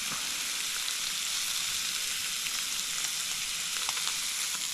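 Striped bass fillet frying in melted butter in a pan, an even, continuous close sizzle with faint crackles and no voices.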